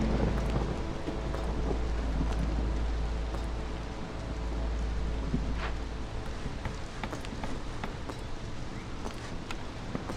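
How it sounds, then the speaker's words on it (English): A storm in the video game Against the Storm: soft, steady rainfall with low rolling rumbles of thunder underneath, fairly quiet and continuous, with no voices. "it's time for storm"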